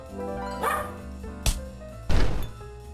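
A dog barks in the roguelike game WizardChess, giving a few distinct woofs spread over about three seconds, the last the loudest, over a faint game background.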